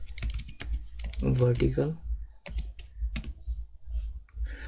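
Rapid clicking keystrokes on a computer keyboard come in quick bursts during a coding tutorial, close and crisp, with someone talking over much of the typing.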